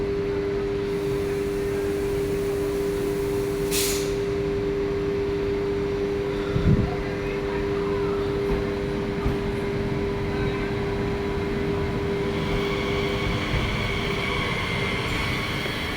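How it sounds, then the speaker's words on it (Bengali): A train pulls into Paris Gare de l'Est station, a steady, even rumble and hum filling the whole stretch with no voices over it. "এখানে আর একটা ট্রেন ঢুকছে, এটা আমরা পুরোটা ক্যাপচার করতে পারবো"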